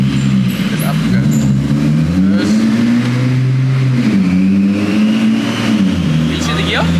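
A VW Golf R32 with a turbocharged VR6 engine and dual-clutch gearbox accelerates hard, the engine note rising and dropping through quick gear shifts, loud and close from inside the car, with people talking over it.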